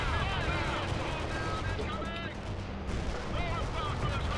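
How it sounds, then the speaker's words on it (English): Artillery fire in the World in Conflict: Soviet Assault strategy game, a white phosphorus shell launched amid continuous loud battlefield gunfire and rumbling, with someone talking over the noise. "Oh, I shot freaking white phosphorus shell."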